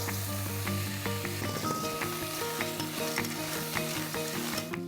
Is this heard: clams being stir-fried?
yes